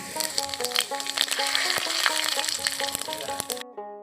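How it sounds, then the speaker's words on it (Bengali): Cumin seeds and bay leaf tempering in hot oil give a loud, close, continuous sizzle, crackling and popping with sharp spits throughout, then cut off abruptly near the end. "জিরা তেজপাতা দিয়ে ফোড়নটা দিয়ে দিই।"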